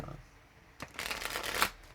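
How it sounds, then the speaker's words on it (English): A deck of tarot cards is riffled in a quick, close burst of crisp flutters lasting about a second, with near silence before it. "One more shuffle for Libra"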